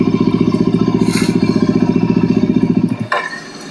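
A dirt bike engine on a hillside trail chugs loud and close in a fast, even pulsing rhythm, then cuts off abruptly near the end, leaving faint outdoor background.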